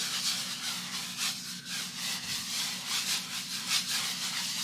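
A brush scrubs liquid white onto a canvas in steady, rhythmic back-and-forth strokes, close and fairly quiet, with no voices.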